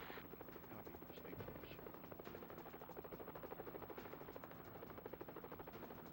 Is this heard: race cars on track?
no